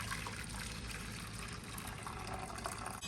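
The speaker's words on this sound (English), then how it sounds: "So now I'm going to strain off the coconut." Blended coconut being strained to extract coconut milk, a steady wet trickling and dribbling of liquid close by, continuous throughout with no talk.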